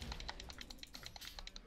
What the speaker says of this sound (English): Hear a mouse clicking spam, who's that?